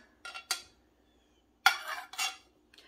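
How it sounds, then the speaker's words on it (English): Ham salad with pickle relish mixed in a bowl, a utensil scraping and clinking in a few short, separate bursts with quiet gaps between them, close and clear, with no talk. "we are going to mix this together"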